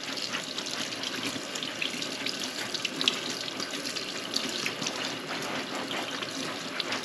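Gloved hands are washed with soap under a running kitchen tap, a steady close splashing and trickling stream with no talking.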